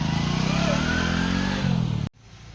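A motorcycle engine revving hard as the bike pulls away, loud and close for about two seconds before it cuts off sharply into quiet.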